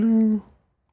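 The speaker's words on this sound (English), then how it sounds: "Picking up a distant sound. Sound like that of a timer." A single steady electronic beep from a timer in the video game GTFO, held for under half a second and then cut off into silence.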